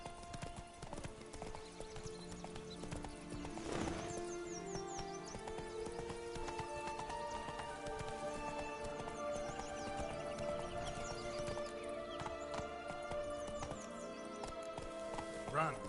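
A horse gallops in The Witcher 3 video game with continuous rhythmic hoofbeat clip-clops over layered game music and ambience, while a voice talks at moments.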